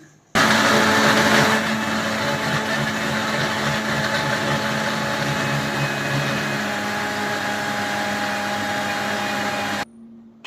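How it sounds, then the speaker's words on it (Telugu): An electric mixer grinder blends mango, sugar, milk and water in one steady, loud whirring run of about ten seconds, starting abruptly and cutting off near the end. "చూడండి మిక్సీ పట్టేశాను."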